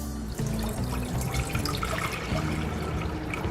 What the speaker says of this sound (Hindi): सबसे पहले हम पैन में पानी ऐड करेंगे 4 से 5 कप